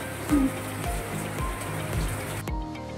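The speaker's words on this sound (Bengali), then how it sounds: "টপ টপ টপ টপ করে পড়ে যাচ্ছে, প্রচন্ড বৃষ্টি হচ্ছে" Heavy rain falls steadily as a broad, continuous wash with dripping patter and a few louder thuds, close and moderately loud, with no talking.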